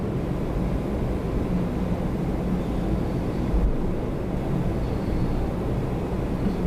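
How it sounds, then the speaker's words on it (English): A SkyWest Embraer 145 regional jet arrives at Toronto Pearson, a steady distant roar of engine noise with wind rumble, broad and continuous without any talk. "5591 from Chicago O'Hare coming in next. Embraer 45. Looks like a SkyWest."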